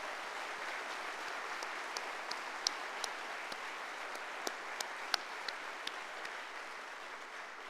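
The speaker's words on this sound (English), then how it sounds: "So how about a round of applause for those in front of us?" A crowd at a military retirement review applauds steadily, a dense even wash of clapping with scattered sharper individual claps standing out, heard at a moderate distance with no speech over it.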